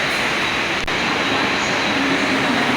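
A Mumbai local train at Nerul station, running steadily with a loud continuous rumble and rush of wheels on rails, close by and without speech, with one short click partway through.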